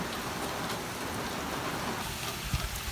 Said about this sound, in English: The rain is pouring down the street.